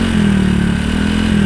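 Motorcycle engine idling at low RPM through a CMS aftermarket exhaust, a loud, deep, steady burble with a rapid pulsing beat, close and continuous.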